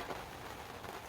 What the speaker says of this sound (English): like the rain's starting to die down a bit.